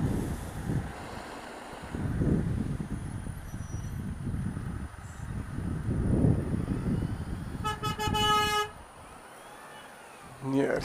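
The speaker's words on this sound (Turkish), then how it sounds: "Niye herkes birbirine korna çalıyor ya?" A car horn blares in a long, loud honk amid traffic rumble and wind, with people talking nearby before and after.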